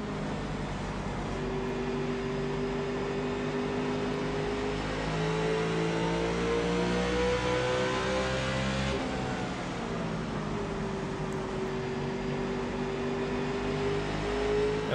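A NASCAR Nationwide stock car engine in the iRacing game at Richmond revs steadily and loudly throughout, with pitch rising and falling as the car accelerates and shifts. The engine drones continuously without any talk.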